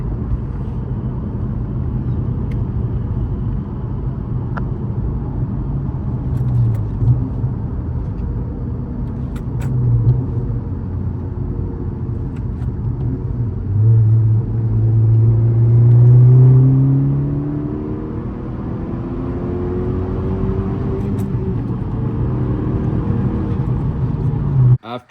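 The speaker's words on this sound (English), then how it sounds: "this is with the Boomba Bypass Valve and PRL cold air intake" A 10th gen Honda Civic Si engine fitted with a Boomba bypass valve and PRL cold air intake, running steadily with a low rumble. It builds into a few rising revs near the middle, with no talk over it.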